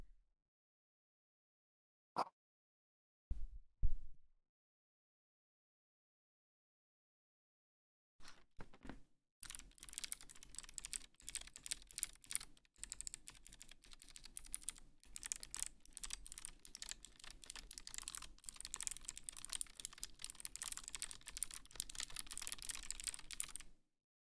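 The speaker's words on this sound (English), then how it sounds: "Now I can give you all a sound test of my abomination keyboard that I built today. Oh, this is this is clicky hell." Rapid clicky key presses on a custom-built mechanical keyboard with clicky switches arranged in a mixed layout, a few isolated clicks first, then a steady, dense burst of close, crisp typing.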